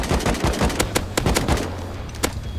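Rapid gunfire in a video game, a loud, close burst of sharp automatic shots in quick irregular succession, then a few scattered single cracks, with no talk.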